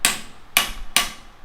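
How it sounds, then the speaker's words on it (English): Three sharp metallic hammer taps on a new fork oil seal of a Royal Enfield Bullet Standard 350, evenly spaced, close and loud with nothing else in between. "So you can use a hammer like this and tap it."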